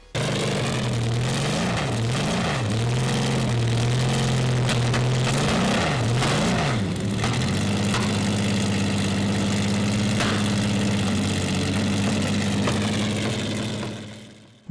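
A 1950s 2.5-litre inline-six Formula 1 engine runs loud and close, its pitch wavering as it is blipped several times, then settling into a steady high idle before fading out at the end.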